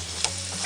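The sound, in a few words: onion sizzling in hot oil in stir fry pan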